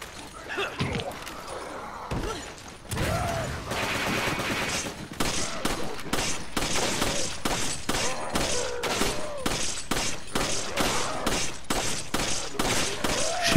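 Gunfire in Resident Evil 5, loud sharp shots in irregular bursts and clusters mixed with impacts and other game action over a long stretch, close and dense.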